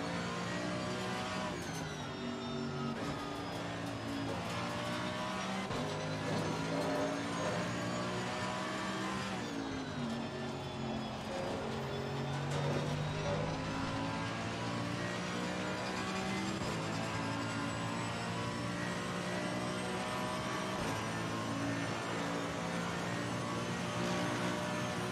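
Race car engine in the Assetto Corsa Competizione racing game during an endurance race at Monza, a loud continuous roar with rising and falling revs and gear changes throughout, without talk.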